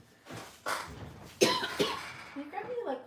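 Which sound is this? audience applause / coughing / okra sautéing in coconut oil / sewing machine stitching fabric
coughing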